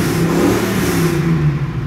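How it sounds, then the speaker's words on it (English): A Range Rover Classic engine revs hard, giving a loud, steady, throaty roar close up with strong low rumble that holds for the whole moment before easing slightly at the end. "when I give a little gas, you can actually hear the engine note that exits from this vehicle"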